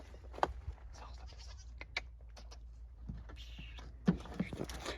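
Goats bleat in a few short cries from a car, quiet and intermittent against a low steady hum, with a little background talk.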